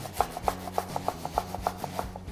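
Onion rubbed against the small holes of a grater for potato draniki, a quick regular rasping of about a dozen strokes, close and clear, with no talking.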